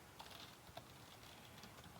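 Quiet, close typing on a computer keyboard while entering code, a loose run of soft key clicks with a couple of sharper taps and no talking.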